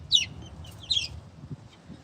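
Bantam chicks on their first day outdoors give a few short, high clucks and peeps, close and clear, over a low background rumble.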